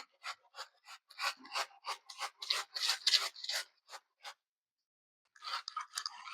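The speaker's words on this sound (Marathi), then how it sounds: "त्यामुळे खिसणीने खिसून घ्यायची" Cauliflower rasped against a hand grater in quick repeated strokes, a steady scratchy rhythm for several seconds, then a brief pause before the grating resumes, close and fairly loud with no talking.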